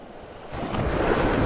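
Sea waves break on a north Norfolk beach at Waxham during shore fishing, a rising wash of surf that grows louder and rushes close to the microphone, with no voices.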